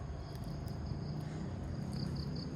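Steady, high insect chirping, likely crickets, repeats in short pulses over a dense outdoor ambience with a low rumble throughout.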